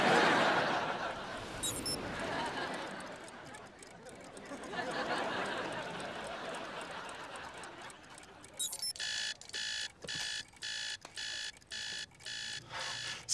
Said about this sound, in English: I set one alarm clock to go off every minute.